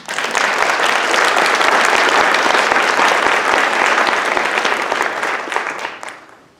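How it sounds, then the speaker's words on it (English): An audience at a university English department graduation convocation applauds the faculty with sustained, dense clapping that holds steady for several seconds, then fades out. "So let's clap for them."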